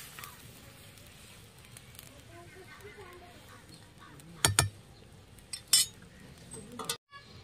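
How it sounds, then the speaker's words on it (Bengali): Pieces of fried rupchanda fish go into a wok of simmering curry, giving two sharp clattering knocks against the pan over a low, steady kitchen background. "এবার ভেজে রাখা মাছগুলো দিয়ে দেবো কড়াই।"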